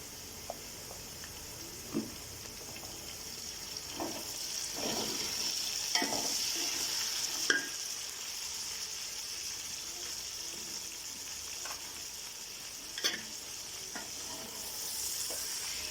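Ginger garlic paste fries in a pan with cumin, giving a steady moderate sizzle with scattered pops and stirring knocks throughout, with no talking.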